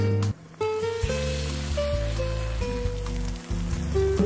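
Battered stuffed kakrol (spiny gourd) deep-frying in a wok of oil gives a steady hissing sizzle, heard under prominent music with shifting sustained tones.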